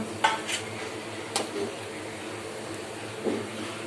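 Onion bajji fry in oil over a small gas burner, a low, soft sizzle under a few scattered clinks and scrapes of utensils against the pan.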